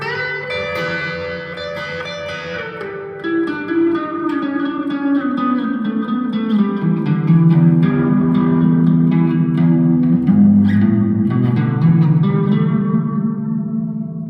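Squier Classic Custom Telecaster on the neck pickup played through a Vox AV15 valve analog amp on a crunch setting with gain raised and reverb added, sustained chords and notes ringing with a washy reverb tail, steady and fairly loud, no talk.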